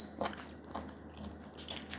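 Someone bites into and chews a shiitake mushroom from a Japanese-style rice bowl, a few soft, close, moist bites and squishy chews at low level with no talking.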